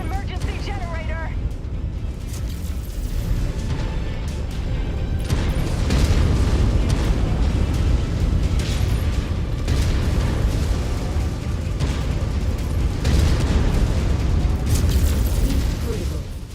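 In the MechWarrior 5: Mercenaries game, an emergency generator blows up amid heavy deep booms and rumbling blasts that roll on continuously, with synthetic radio-style voice callouts over the battle noise.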